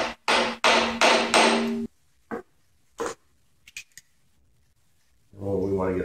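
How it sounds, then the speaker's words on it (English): A hammer taps a harmonic damper onto a Ford small-block crankshaft: three or four light, sharp knocks spaced about a second apart, between stretches of someone talking at the start and end. "don't hammer too hard because that'll be damaging the thrust bearing on the crankshaft"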